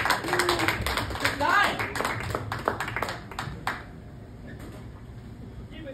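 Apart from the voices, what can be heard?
audience clapping for comedian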